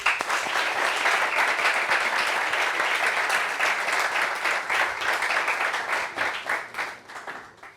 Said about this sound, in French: Applaudissements jusqu'à ce qu'elle s'asseye.